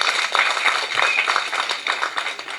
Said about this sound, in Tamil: கைதட்டு சத்தத்தையே காணுங்க